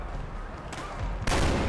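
A double-barrel shotgun fires in Far Cry 4: one loud, sharp blast bursts in near the end over a steady noisy game background, with no talk.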